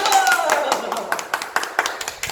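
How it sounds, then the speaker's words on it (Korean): Scattered hand claps from an audience after a speaker greets them, beginning over a brief tonal sound and thinning into a few separate, irregular claps. "박수!"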